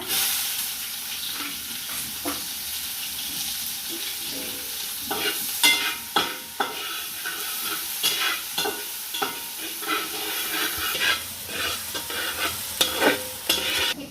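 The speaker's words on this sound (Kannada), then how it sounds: "ಸಾಸಿವೆ ಹುಟ್ಟುವಾಗ ನೀರುಳ್ಳಿ ನೋಡಿ ನೀರುಳ್ಳಿ ಮತ್ತು ಬೇವಿನೆಲ್ಲ ಕತ್ತರಿಸಿ ಇಟ್ಕೊಂಡಿದೆ ಅದನ್ನು ಹಾಕೊಂಬ" Chopped onion and leaves hit hot oil with popping mustard seeds, producing a continuous close sizzle with repeated scraping and clattering from stirring in the pan, with no voices.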